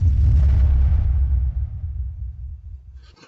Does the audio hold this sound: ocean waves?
no